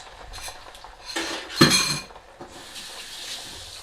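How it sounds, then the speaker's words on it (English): Around four eggs seasoned with salt and pepper hit a pan for fried rice, bringing a brief clatter of utensils and pan, then a hissing burst of sizzling that eases to a low crackle. "So now first you want to do is get your eggs cooking"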